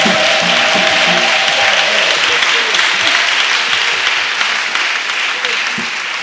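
A church congregation at a national missionaries' retreat applauds loudly and continuously in praise of Jesus Christ, a dense wash of clapping that fades slightly toward the end, with voices and a sung tone heard beneath it early on.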